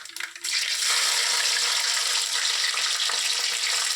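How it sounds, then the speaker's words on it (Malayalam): Garlic goes into hot sesame oil in a pan for a pickle. After a brief soft clatter it sets off a loud, steady sizzle that fries on evenly throughout. "ഇനി നമുക്ക് വെളുത്തുള്ളി ഇടാം."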